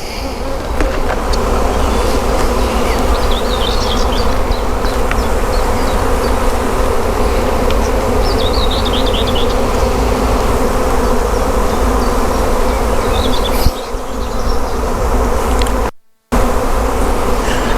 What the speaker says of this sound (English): We've got a swarm moving in, but I ain't got a clue where that's coming from.